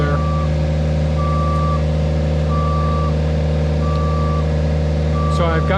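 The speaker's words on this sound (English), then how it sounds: "Rachet here, the name of this lift, going backwards, and I'm just swiveling around" A lift named Rachet backs up with evenly spaced, loud reversing beeps over a steady engine drone, and a brief squeal rises near the end.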